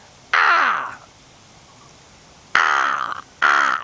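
A mimicry artist imitates a crow, cawing three times with his voice: one long harsh caw, a pause, then two more in quick succession, loud and close.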